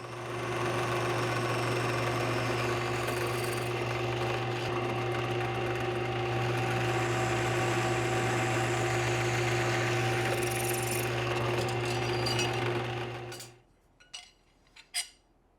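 Steel plane sole being drilled with a steady, loud motor whine and continuous grinding hum for most of the clip, then the drill stops abruptly, leaving a few faint clicks and knocks.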